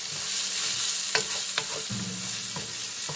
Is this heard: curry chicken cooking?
yes